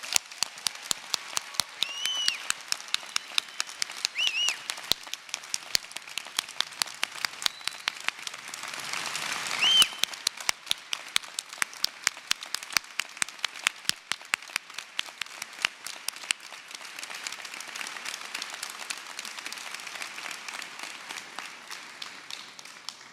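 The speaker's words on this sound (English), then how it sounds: "I would ask us all to celebrate all that Peter gave to Post, to his students, to his colleagues, with a great round of applause" Commencement audience at Post University applauding in tribute to a departing colleague, a long round of clapping that starts crisp and dense, swells briefly, then thins into scattered claps as it fades out.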